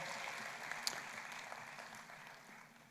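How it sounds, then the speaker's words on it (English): Faint applause from a forum audience for a government minister at an economic growth forum in Uganda, a soft, steady patter of clapping heard from a distance that gradually thins out over three seconds. "Another round of applause for the Honorable Minister."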